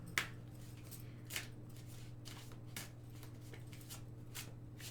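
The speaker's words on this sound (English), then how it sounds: "These need a good shuffle, I think." Soft, papery bursts of a tarot card deck being shuffled, repeating every second or so, quiet and close, over a steady low electrical hum.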